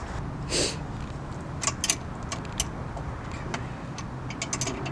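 A brake bleeder bolt being tightened with a wrench, heard as a run of short sharp metallic clicks and ticks in irregular bursts over a low background hum.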